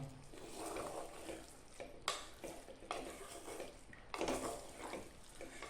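Coriander powder being stirred and roasted in a pan, with repeated scraping strokes of a spoon against metal in uneven bursts over a faint background sizzle, close and quiet.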